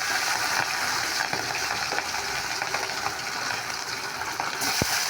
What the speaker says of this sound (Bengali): আর এই চার পিস ভেজে নিচ্ছি